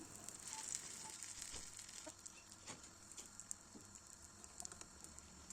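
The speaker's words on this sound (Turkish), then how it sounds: "Yavaş yavaş hafiften havalandırarak kızartıyorum." Soft, steady sizzling with scattered light pops and crackles as pişi dough fries in hot oil in a pan, fairly quiet and continuous with no voices.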